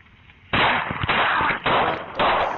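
Gunfire in a played recording of a police shooting, four loud sharp reports in quick succession, close and harsh, with no talking over them.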